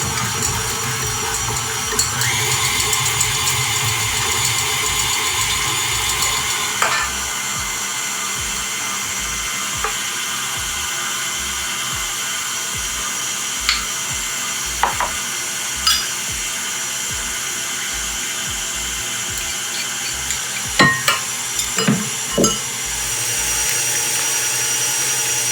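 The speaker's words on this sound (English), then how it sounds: "It really just says put everything in the mixer." An electric mixer mashes bananas for muffin batter, giving a steady motor whir with rhythmic low thumps and scattered clicks throughout, with no talking.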